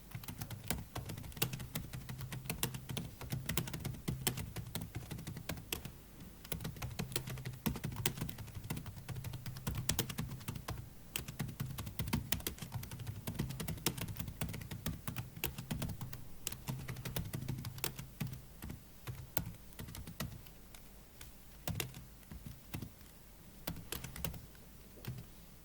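Continuous typing on a computer keyboard during a ten-finger typing-speed test, dense fast keystroke clicks running steadily throughout, close and even, with a faint low hum underneath and no talking.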